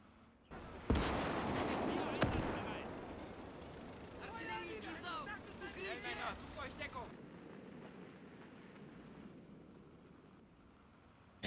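A heavy explosion booms in the WWII strategy game Gates of Hell, followed by a long rumbling roar and further distant blasts that fade out. Muffled voices are heard in the middle.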